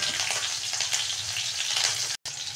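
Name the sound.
garlic and green chili frying in oil in a wok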